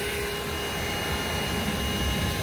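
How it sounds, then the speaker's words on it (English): A vacuum runs loud and steady while a bee swarm is sucked out of a water meter, a continuous close roaring whine with no talk. "let's turn the vacuum off and let it sit for"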